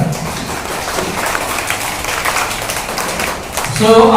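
Children applaud a spelling bee contestant in a classroom, a dense, steady patter of many small hands at moderate loudness, with a voice rising briefly at the end.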